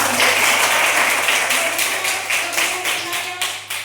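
A third-grade class claps together in the classroom, a loud, close patter of many small hands that keeps a loose rhythmic pulse and thins slightly toward the end.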